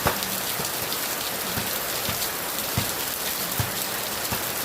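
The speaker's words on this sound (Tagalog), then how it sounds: "Oh, grabe ang lakas ng ulan, no?" Heavy rain pours down steadily, a dense hiss of drops hitting surfaces with occasional louder splats, close and continuous, no talking.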